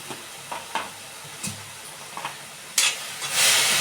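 Wet cashew kernels and vegetables being sautéed with garam masala and coriander powder in a pan, Konkan Malvani style: a few sharp spoon scrapes over a soft sizzle that swells into a louder hiss near the end.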